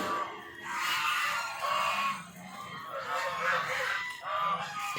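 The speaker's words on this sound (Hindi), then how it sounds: "कितना सारा डक है, देखिए कितना डक है, बहुत है।" A large flock of white ducks by the water, giving repeated harsh honking quacks in overlapping bursts, fairly close and continuous.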